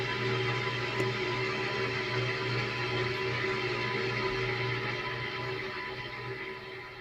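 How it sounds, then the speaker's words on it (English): A looped atmospheric spaceship ambience plays as a steady, low droning hum with a broad hiss above it, even and continuous throughout. "It's called Atmospheric Spaceship."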